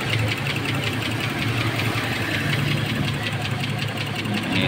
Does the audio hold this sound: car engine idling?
yes